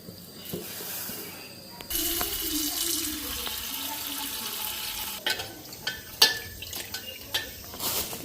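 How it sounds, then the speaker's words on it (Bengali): Raw moong dal being washed in a kitchen sink under running tap water, a faint trickle swelling into a steady flow with clinks of a bowl and scattered knocks. "মুগ ডালটা ধুয়ে আনি কাঁচা মুগ ডাল বানাবো"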